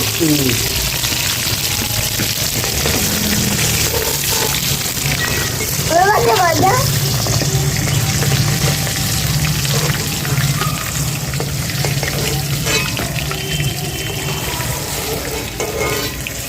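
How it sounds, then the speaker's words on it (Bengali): Shankar fish (stingray) frying in hot oil, a steady broad sizzle running throughout under a low hum, with brief clatter and a faint voice partway. "বাদ বাকি মাছগুলো ভেজে নিচ্ছি"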